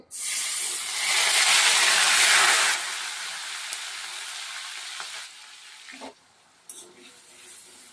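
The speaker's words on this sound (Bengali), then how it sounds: "এবার পেঁয়াজটাকে আগে একটু ভাজা ভাজা করে নেবো" Onion paste hits hot oil left from frying potatoes with a loud, hissing sizzle that eases into a steadier, quieter fry, punctuated later by a couple of utensil knocks and scrapes.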